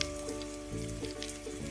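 Sliced onions frying in hot oil for mutton biryani, a steady close sizzle with bubbling crackle throughout and no voices.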